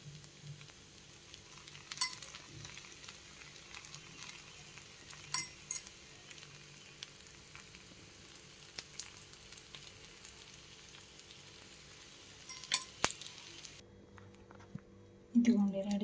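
Gunta ponganalu batter frying in oil in a paniyaram pan, a low steady sizzle under occasional clinks of utensils, with a few sharper taps and stirring sounds near the end.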